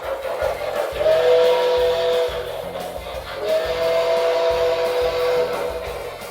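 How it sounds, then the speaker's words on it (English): A steam whistle sounds in long sustained blasts over the rhythmic chuffing and rumble of a small O gauge model steam locomotive running steadily, its whistle sampled from locomotive 765. "this engine has a great whistle recording off 765 that I really like"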